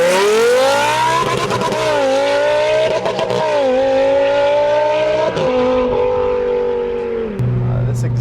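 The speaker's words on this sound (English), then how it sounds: "This exhaust might make me like these again, because it sounds really good in here" Lamborghini Huracan with a 5.2-litre V10 and FMU exhaust accelerates hard and loud, its rising engine note dropping sharply at each gear shift, with a burbling crackle as the revs fall near the end.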